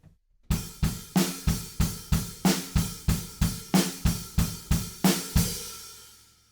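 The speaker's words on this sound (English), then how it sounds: "kick drums come in on every 8th note that the snare drum's not playing" A driving rock drum beat in the style of a song, the kick drum filling every eighth note between the snare backbeats under washy hi-hats, steady, close and loud, ringing out at the end.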